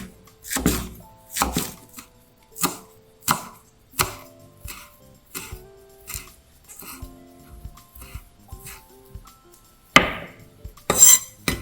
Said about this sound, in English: Two green onions. Take the green part and cut it thinly.